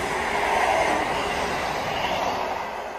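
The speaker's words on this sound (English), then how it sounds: "This time it's Transport for Wales class 158" A Transport for Wales class 158 diesel train runs through Tipton station, giving a steady, loud rumble and rail roar that fills the whole stretch and eases slightly near the end.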